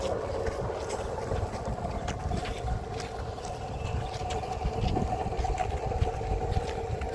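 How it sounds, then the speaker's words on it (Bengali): A boat moves on a river, a continuous low engine drone with water and wind noise, heard steadily throughout at moderate distance without talk. "ওই যে সামনে নৌকা আসবে, নৌকা ওটাতেই যাবো"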